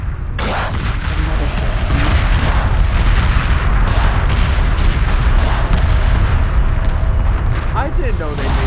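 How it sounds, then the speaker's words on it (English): A heavy cruiser firing salvos in Homeworld 2 Remastered, a dense, loud, unbroken barrage of deep booming blasts rolling over one another for several seconds, with a voice speaking over the din. "That is some salvos."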